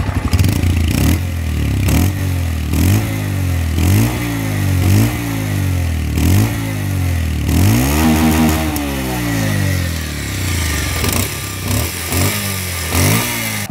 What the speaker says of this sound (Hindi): अब बाइक स्टार्ट होगी। बाकी आप साउंड सुनो आप।